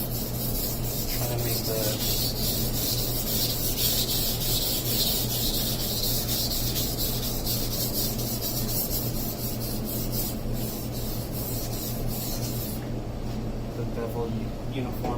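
Masamoto knife blade drawn in light passes across a 300 grit whetstone, a steady continuous scraping rub running the whole time with a person talking briefly over it.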